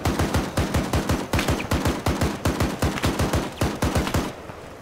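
Automatic gunfire in a shooting video game aimed at trees: rapid regular bursts of shots in a fast, even rhythm, loud and close, with no talk, stopping just before the end.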